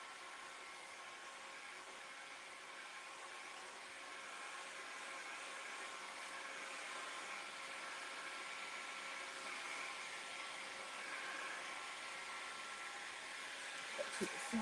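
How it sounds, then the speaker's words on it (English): A heat gun runs continuously while heating material during a chair makeover, giving a steady, faint blowing whir that holds throughout, with a couple of small knocks at the end. "It's the perfect weather to work with a heat gun, guys."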